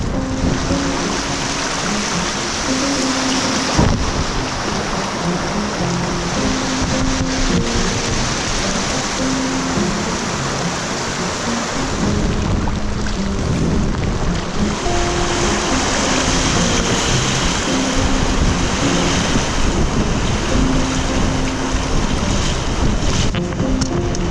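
Loud, continuous churning of river rapids in New Brunswick heard from a canoe, with gusty wind buffeting the microphone and occasional splashes throughout.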